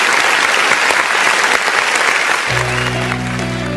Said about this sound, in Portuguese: Mais aplausos para o Wallace Borges